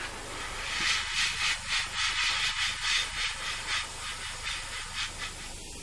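Stain sprayed in short repeated bursts onto a wooden bowl, a steady close hiss pulsing about once a second with no talk over it.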